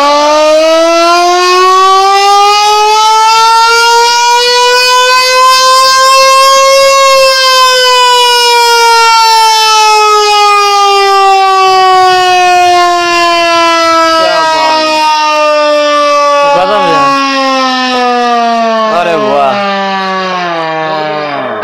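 A manual hand-cranked ship's siren hooter winds up to a loud, steady wail and then slowly sags in pitch, with some stuttering wobbles near the end. It sounds close, and a voice can be heard faintly beneath it.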